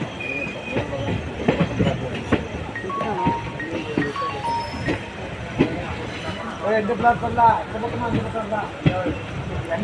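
A passenger train rolls into Tirunelveli Junction at night, wheels clattering over rail joints with occasional squeals, steady and close while someone talks over it.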